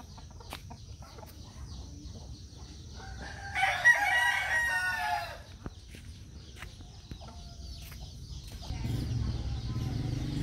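Caged fighting roosters on a farm: one loud, close crow rises over a low background of clucking and scratchy rustling, with fainter bird sounds scattered throughout.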